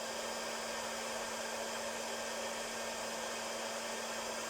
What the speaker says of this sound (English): we'll give that a blast of the heat gun to dry it. I'm going to let the heat gun warm up